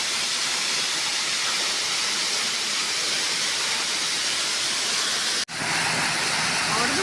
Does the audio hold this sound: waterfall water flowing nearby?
yes